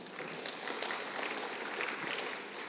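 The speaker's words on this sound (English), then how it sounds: "So big round of applause for that committee." Faint, brief applause for a committee at a hospital's annual general meeting, a soft patter of clapping from a modest audience heard at a distance.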